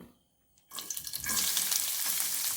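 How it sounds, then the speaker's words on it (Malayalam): Chopped onions drop into hot ghee after a brief quiet moment, bursting into a loud, sustained crackling sizzle close by. "രണ്ട് സ്പൂൺ നെയ്യ് ഒന്ന് അരിഞ്ഞു വെച്ചിരിക്കുന്ന ഉള്ളി ഇട്ട് കൊടുക്കാം"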